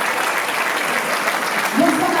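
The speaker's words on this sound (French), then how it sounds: "sous vos applaudissements" Audience applause in a regional conservatory auditorium at an evening show, a steady dense wash of clapping throughout, with a faint voice briefly rising near the end.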